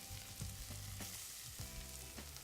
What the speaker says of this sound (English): And add some scallions. Give it a little stir. A little salt and pepper.